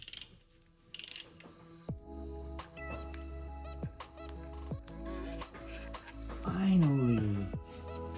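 Ratchet loosening a size 17 hex screw during an oil change on a Ducati Monster, a series of quiet clicking pawl strokes at close range, with a few louder clanks and background sounds.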